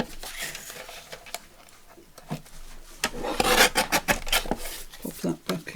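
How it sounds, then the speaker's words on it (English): Paper is trimmed for a collage with rough, rasping scrapes and rubbing strokes, quiet at first and then louder and quicker in a close run of strokes near the end. "Let me trim this off and see what it looks like."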